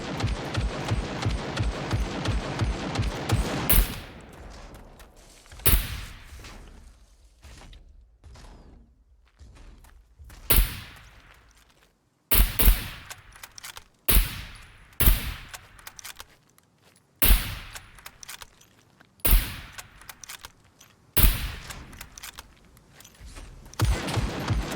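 Repeated sharp gunshots in the video game SCUM, in separate bursts, loud and close, with brief pauses between volleys and a dense crackle of shots at the start.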